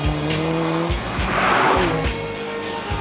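A small, light carbon-fibre Alfa Romeo 4C sports car revs hard with shifting engine tones while its tires squeal and skid, loud and close throughout.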